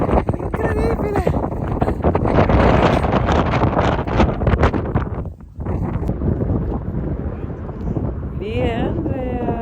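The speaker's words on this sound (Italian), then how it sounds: "Siamo al cratere di Vulcano, c'è un vento incredibile." Strong wind buffets the microphone at the rim of the Vulcano crater, a loud continuous roar with gusts that briefly drop out, while people talk over it.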